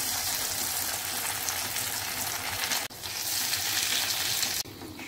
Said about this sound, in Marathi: आता आपण उरलेले कटलेट सुद्धा असे फ्राय करून घेऊ